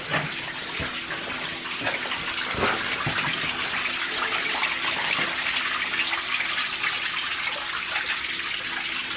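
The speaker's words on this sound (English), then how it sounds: "Oh, you got a little waterfall here." A small waterfall inside Balconies Cave at Pinnacles National Park runs as a steady, close rush of splashing water over a cobblestone bed, continuous and fairly loud with no voices.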